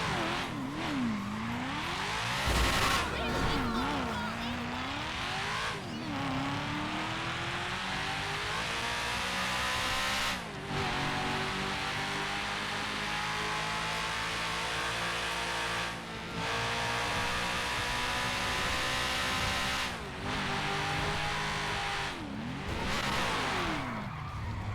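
A racing car engine revs hard and continuously, climbing through gears with brief drops at each shift and occasional tire squeals.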